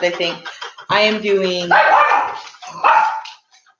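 A pet dog named Pickle barks and yips in a few sharp bursts, close and loud, mixed with a person talking over the barking.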